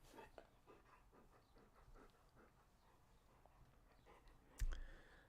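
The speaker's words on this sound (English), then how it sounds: "Probably hear him panting." A Golden Doodle dog pants softly in quick, faint rhythmic breaths, fairly close, followed by a sharp clattering thump near the end.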